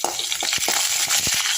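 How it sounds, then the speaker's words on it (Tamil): Garlic, urad dal, cumin and dried chillies sauté in a pan, a bright close sizzle with quick scraping stirs every few tenths of a second. "நல்லா வதக்கிக்கலாம்."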